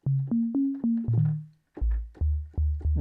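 Pure synthesizer sine-wave tones step through a short melody, first mid-pitched notes gliding, then a series of low sustained notes, clean and alone.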